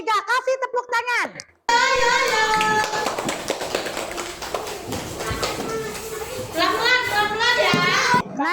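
Schoolchildren in an Indonesian classroom clap together for a group, dense rapid hand claps filling most of the stretch, with children's voices rising over it and a teacher speaking at the start.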